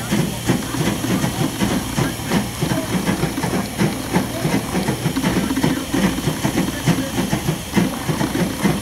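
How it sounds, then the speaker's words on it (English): Pumps run steadily inside a refurbished Semitool Spray Acid Tool, a continuous hissing, steam-like machine drone with a fast mechanical pulsing beneath it, close and fairly loud throughout. "We can hear pumps, we can see chambers going."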